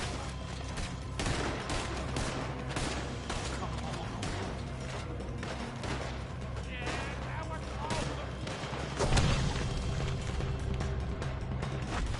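Bursts of gunfire crackle through a video game shootout, with dense rapid shots and impacts layered over game voices shouting, growing heavier toward the end.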